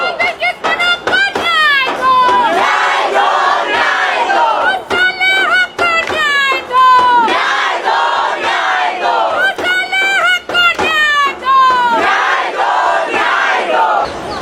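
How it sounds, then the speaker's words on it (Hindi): Large crowd of protesters at a demonstration at Jantar Mantar in Delhi, shouting slogans in loud rhythmic unison, call-and-response bursts repeating throughout, close and dense with no pause. "उन लोगों ने जंतर मंतर पर कितनी बड़ी संख्या में जुटकर एक साथ मिलकर प्रदर्शन किया था"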